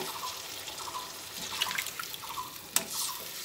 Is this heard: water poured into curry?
yes